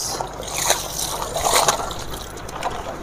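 Water splashes and sloshes as it is poured onto the base of a newly planted kadamba tree in Odisha, a steady close splattering over three seconds with faint background voices.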